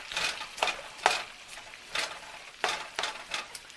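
Finely diced potatoes are stirred in a pan of butter and oil, giving soft, faint scraping and sizzling strokes that come in a loose rhythm of about six or seven sweeps.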